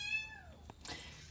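A young kitten gives a clear, close meow that falls in pitch, followed by a short rustle and a faint higher chirp.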